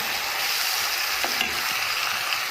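Beef liver frying Alexandrian style in a hot pan, a dense, steady sizzle that stays close and loud throughout, with a couple of faint stirring knocks and no talking.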